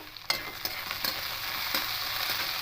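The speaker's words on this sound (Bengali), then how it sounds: "একটু হালকা করে ভেজে নেব" Bitter gourd and potato pieces fry lightly in a pan for a mustard-paste chorchori, a steady close sizzle broken by several sharp scraping stirs of a spatula.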